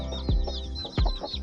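Two hens in a backyard coop cluck close to the microphone in two short bursts, each a sharp low cluck followed by softer throaty murmurs.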